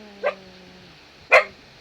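Two short dog barks, a quieter one followed by a louder one about a second later, close and otherwise quiet.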